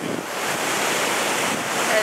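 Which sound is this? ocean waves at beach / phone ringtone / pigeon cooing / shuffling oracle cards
ocean waves at beach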